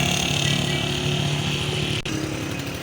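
A Honda CD70 motorcycle engine, converted to run without a clutch, idles in gear with a loud, steady, close putter that runs throughout, dipping for a split second near the end.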